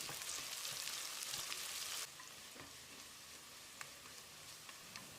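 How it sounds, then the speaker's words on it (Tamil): Sliced onion and thinly sliced coconut sauté in a hot pan with a steady, fairly quiet sizzle and a few faint stirring clicks, with no voices. "வெங்காயத்தை செவந்து வர்ற அளவுக்கு வதக்கிடலாம்."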